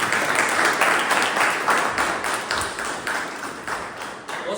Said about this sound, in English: Please welcome with a big round of applause Toastmaster Vinit Malik.